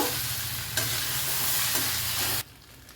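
Sevai being stirred in a hot pan, a steady close scraping and sizzling that runs for a couple of seconds before cutting off abruptly, with no voices.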